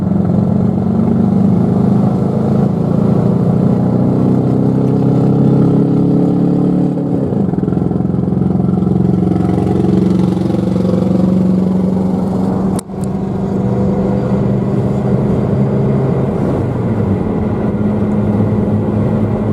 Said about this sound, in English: The last time I heard an engine sound like that